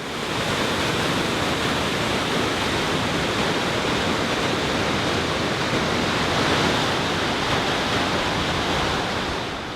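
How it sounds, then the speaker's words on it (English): Victoria Falls in Zambia, a mile-wide river crashing 100 meters into the gorge, makes a dense, unbroken thundering roar that stays steady and loud throughout. "The thunder is the sound of a mile-wide river crashing 100 meters down the gorge."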